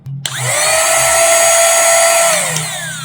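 A mini multifunction vacuum cleaner switches on with a click and quickly spins up to a loud, steady high-pitched whine that holds close and alone for a few seconds.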